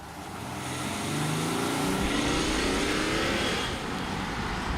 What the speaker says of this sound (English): It's that familiar diesel clatter